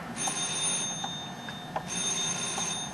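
An old telephone bell rings in a house, a bright metallic trill repeating in short bursts at moderate volume with no voices over it.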